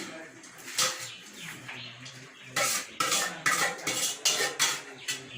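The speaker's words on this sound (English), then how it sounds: "You just stir it like that, you know?" A spoon scrapes and knocks against a cooking pot while saltfish and cabbage are stirred, giving irregular metallic clatters that grow denser in the second half, with a person talking over them.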